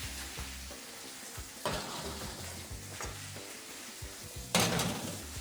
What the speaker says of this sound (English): vegetables are going in.